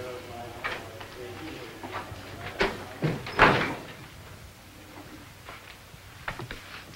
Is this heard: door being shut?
yes